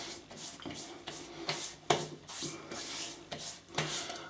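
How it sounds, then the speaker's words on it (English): Oil being rubbed into facial whiskers by hand before a wet shave with a shaving brush and razor, a close, soft rasping friction that comes in repeated strokes, with no talking. "Just rubbing this into the whiskers."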